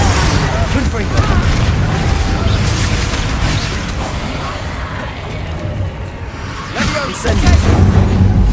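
Spell-casting combat in the Hogwarts Legacy video game, with Confringo fire blasts erupting in loud, dense booms over a steady rumble of magical effects, with a brief lull before heavier bursts return.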